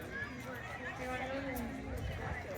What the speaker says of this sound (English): So there's a crowd of people inside.